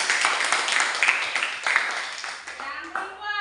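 An audience of students and staff claps together at a campus gathering, a steady burst of applause that rises and thins over a few seconds, with voices mixed in.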